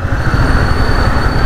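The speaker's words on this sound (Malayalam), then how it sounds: "ഇതിൻ്റെ താഴെ കൂടെ ട്രെയിനാണ് പോകുന്നത്." A train runs beneath an overbridge at night in Trivandrum, a loud, continuous rumble of wheels and rail clatter with a high squeal ringing steadily above it.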